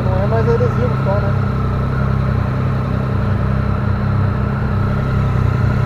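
Triumph Speed Triple 1050R motorcycle, a 2016 model, running with a steady low engine drone throughout, close by and under people talking.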